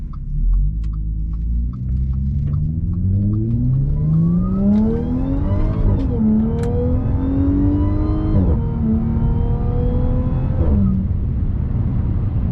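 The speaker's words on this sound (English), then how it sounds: "You get the supercharger whine in the higher RPMs. You get the exhaust just howling out back every time you shift" A 2015 Audi S4 accelerates hard through several gears, its engine note climbing steeply with supercharger whine at higher revs, then dropping at each shift while the exhaust howls, loud and close from inside the car.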